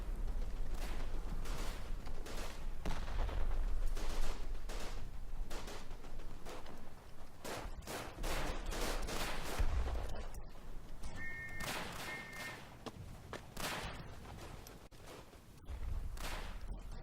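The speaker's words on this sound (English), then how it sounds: "Gunfire!" Rapid volleys of rifle and machine-gun fire crackle through a World War I trench shooter set at Verdun, dense bursts overlapping continuously at close and mid range with brief lulls.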